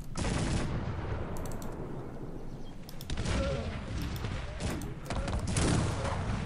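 Artillery and musket gunfire in the video game Cossacks 3, a dense, continuous roar of distant volleys and booms with a short dip near three seconds before the barrage resumes at full strength.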